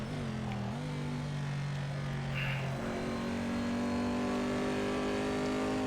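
Corvette C7.R race car at speed on the Road Atlanta circuit, its engine droning steadily with a pitch shift and then rising revs, loud and continuous from onboard with no talk.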